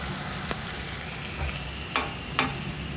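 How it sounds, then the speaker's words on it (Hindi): Methi papdi, crisp fenugreek dough rounds, lightly frying in hot oil, a steady soft sizzle close by with a few sharp crackles and spatters, no voices. "बस हल्का सा हम इसे फ्राई कर लेंगे"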